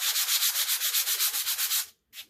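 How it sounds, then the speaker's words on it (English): Rhythmic scratchy sanding strokes, steady and close, repeating for about two seconds before a brief pause and one last short stroke. "I'm going to continue to sand this down."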